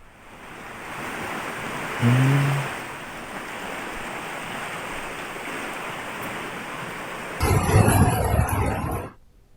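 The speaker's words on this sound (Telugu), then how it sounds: "బెజ్జూరు మండలం బాబుగూడ వాడు వాగు ఉధృతంగా ప్రవహిస్తోంది" A stream at Babuguda in Bejjur mandal running in spate after heavy rain, heard as a loud, continuous rushing roar of water, with a brief louder surge near the end.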